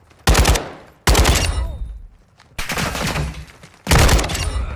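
Gunfire in Warzone 2 DMZ, four loud, close bursts of rapid automatic fire separated by short pauses, alone without talk.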